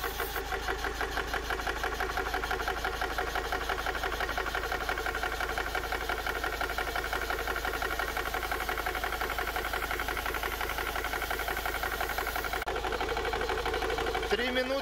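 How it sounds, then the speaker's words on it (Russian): A 12V compressor powered from a car fills a PCP air rifle, running as a steady, loud mechanical drone with fast even pulsing that continues unchanged for about fifteen seconds. "Запускаем компрессор, подключили его к автомобилю."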